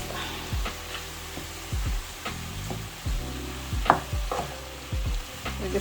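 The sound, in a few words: mixing salmon and sauce in a hot pan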